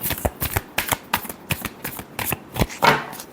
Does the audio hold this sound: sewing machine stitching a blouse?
no